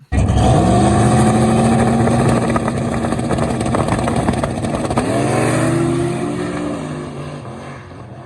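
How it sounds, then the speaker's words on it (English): A drag race car on a no-prep track makes a full pass: a loud engine roar climbs sharply in pitch, drops at a gear shift around the middle, climbs again, then fades as the car pulls away. "So the car made a killer pass."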